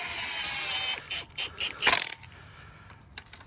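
A ratchet tightening the flywheel bolts on a Ford Focus RS engine, a few quick metallic clicking strokes close up, a brief louder clank, then quiet.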